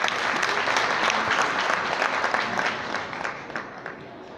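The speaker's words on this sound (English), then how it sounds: "Please clap for him." A crowd at a 2016 graduation ceremony at the Palais des congrès claps for an honoree: dense, loud applause that tapers off slightly toward the end.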